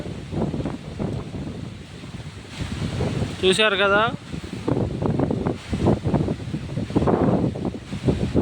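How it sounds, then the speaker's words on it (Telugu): Strong, gusty dust-laden wind over cotton fields roars across the microphone in heavy rumbling bursts, while someone speaks over it and a brief warbling tone rises in the middle. "గాలి దుమ్ము చాలా బాగా వస్తుంది"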